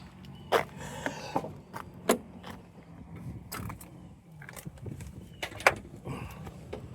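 Someone opens the hood of a 2000 Chevrolet Camaro SS with a 6-speed, making a series of sharp latch clicks and metallic clunks with a few scattered thumps between them over a quiet background.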